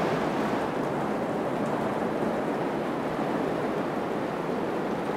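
Heavy rain pours down in a dense, continuous hiss that stays loud and even throughout, with no voices.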